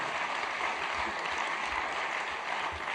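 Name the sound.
round of applause for Zenith Bank executives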